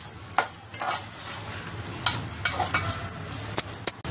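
A spoon stirs prawn masala with raw mango pieces in a pan. Close, irregular scrapes and taps sit over a low background sizzle.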